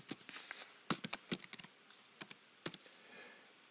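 Typing on a computer keyboard: quiet, close, irregular bursts of light clicking keystrokes with short pauses between clusters, and no talk.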